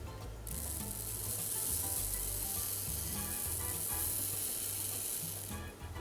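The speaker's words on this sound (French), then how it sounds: "je viens simplement donc verser les perles sur l'ongle" Tiny caviar nail pearls poured in a steady stream onto a fingernail resting on a small stand, a continuous fine hissing patter that holds evenly for several seconds and then stops.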